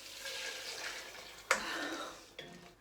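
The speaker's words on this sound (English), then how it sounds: "So anyway, here goes in the first half a litre." Vegetable stock poured into a soup pot for a creamy celeriac and peanut soup, a steady liquid wash running close by with a sharp knock midway and a smaller bump near the end.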